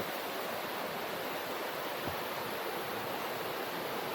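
The river at Bridal Veil Falls along Kennon Road gives a dense, steady roar of rushing, falling water, loud and unbroken, with no voices.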